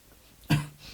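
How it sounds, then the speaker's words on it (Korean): A single short cough from a man, close and fairly sharp, breaks a quiet room and fades quickly. "몰라 기침이 나오네."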